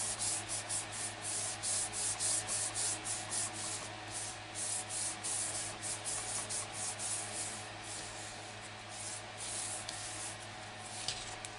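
Sahara Sand ink rubbed across a crafting card with a cloth, giving steady rhythmic scrubbing strokes, close and fairly loud, with no talking.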